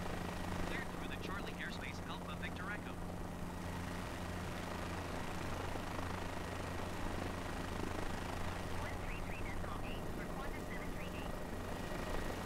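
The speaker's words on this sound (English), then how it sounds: "Could be a traffic chopper." A helicopter flies over Sydney in a flight simulator: a steady, loud rotor and engine drone runs without a break through the whole stretch, with no clear break or change in its level.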